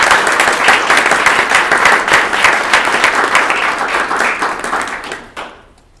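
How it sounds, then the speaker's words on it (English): An audience at a library board of trustees meeting applauds library staff, dense loud clapping from a roomful of people that holds steady for about five seconds and then quickly dies away. "I would just like to give a round of applause to all those"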